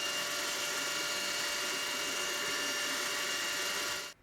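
A drill spinning at 3200 RPM bores the first hole for a wire crosshair in a prototype centering microscope, giving a steady, loud, high whine that cuts off abruptly near the end, with no talking.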